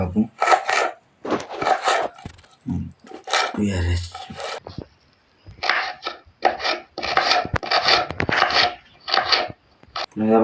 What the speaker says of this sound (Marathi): बारीक कांदा कापला आपण